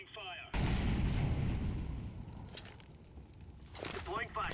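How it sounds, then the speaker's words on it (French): A flashbang grenade detonates in a video game with a sudden loud burst that decays over several seconds, followed by a faint voice at the end. "Throwing flashbang."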